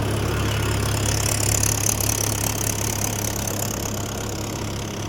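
Farm engine idling steadily at roughly 1100-1200 RPM during a night cumin harvest, a constant low droning hum with broadband mechanical noise, continuous and fairly loud with no talk.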